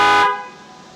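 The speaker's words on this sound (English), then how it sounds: "you can actually unlock it and honk the horn" A single loud Tesla car horn blast, honked remotely via app, brief and close, cutting off after a quarter second and leaving a fading ring.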